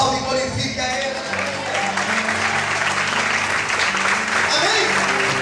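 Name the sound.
congregation applause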